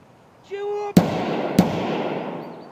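Two loud, sharp gunshots about half a second apart in the shooter game Escape From Tarkov, each with a decaying tail, after a brief steady electronic tone.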